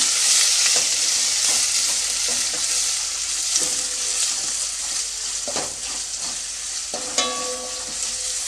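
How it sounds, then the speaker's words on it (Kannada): Onion and garlic frying in a pan for vegetable sambar, a steady close sizzle with intermittent stirring scrapes and clinks throughout, no talking. "ಈರುಳ್ಳಿ ಮತ್ತು ಬೆಳ್ಳುಳ್ಳಿದು ಹಸಿ ವಾಸನೆ ಹೋಗೋವರೆಗೂ ಒಂದು ಸ್ವಲ್ಪ ಫ್ರೈ ಮಾಡ್ಕೊಳ್ತೀನಿ"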